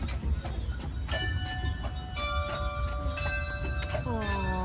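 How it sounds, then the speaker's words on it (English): A bell rings several times during a horse-drawn carriage ride at the Bavarian Inn in Frankenmuth, Michigan. The clear, ringing tones sound over a continuous rumble of outdoor and traffic noise. "Oh, that's the bell."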